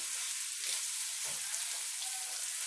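Italian sausages and vegetables fry in a pan with a steady, close, moderately quiet sizzle and crackle that runs unbroken throughout, with no talking.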